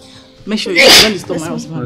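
A single sharp, close sneeze bursts out in the middle of a woman's spoken line in an indoor night-time scene from a Nigerian drama, with talking before and after it.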